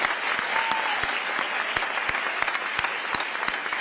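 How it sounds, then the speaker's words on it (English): Crowd applause at a Vice President Kamala Harris event in Reno, a steady wash of clapping with distinct loud claps from nearby hands standing out above the crowd. "Give them a round of applause."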